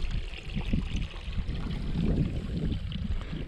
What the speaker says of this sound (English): from somewhere there's a river running.